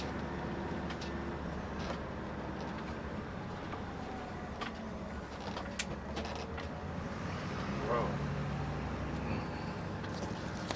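A 2005 Workhorse motorhome drives straight ahead on concrete, its engine and road noise forming a steady, continuous rumble with occasional faint rattles throughout.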